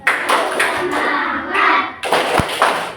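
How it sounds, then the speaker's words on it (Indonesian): A school class performs the rhythmic 'tepuk semangat' clap, with loud, close bursts of hand claps in short patterned groups, a thud partway through and children's voices mixed in. "Tepuk semangat ya."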